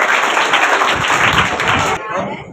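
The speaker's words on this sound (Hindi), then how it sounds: "सईद भाई के लिए जरा ये तमाम बच्चे तालियां बजाएं" A crowd of schoolchildren claps steadily and densely at a Pak Educational Academy event commemorating the 16 December Army Public School attack. The applause ends abruptly near the close, leaving a quieter, softer background.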